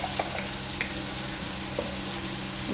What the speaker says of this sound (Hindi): इसके बाद हम ये टमाटर डाल देंगे